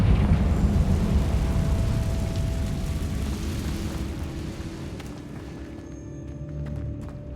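Confringo blasting spell explosion in the video game Hogwarts Legacy: a loud, deep rumbling blast that begins at full strength and slowly fades into a long crumbling roll and debris.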